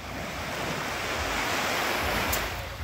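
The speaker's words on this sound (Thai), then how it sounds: "ก็เป็นบรรยากาศหาดกองก้อยจ้ะ" Surf washing onto Kong Koi beach on Koh Chang island, a broad continuous roar of waves with wind buffeting the microphone, steady and fairly loud with no voices.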